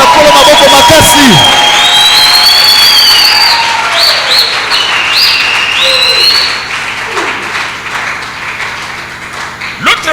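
A congregation at a church service applauding and cheering loudly, with dense clapping and raised voices that gradually fade, and some musical tones mixed in.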